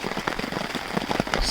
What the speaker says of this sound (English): It's raining, yeah, but it's also kind of sleeting